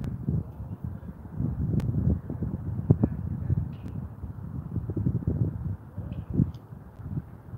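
Gusty wind buffets a handheld phone microphone outdoors beside a trout fishing spot, producing a steady low rumbling roar with uneven surges and no talking.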